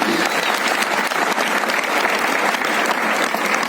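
Dense, sustained applause from a large audience at a religious discourse gathering in Jabalpur, with loud, continuous clapping and no pause for nearly four seconds.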